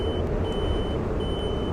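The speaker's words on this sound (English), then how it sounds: "it's kind of a high tone beep" A thin, high electronic beep repeats in long tones over a constant low engine rumble inside a truck cab.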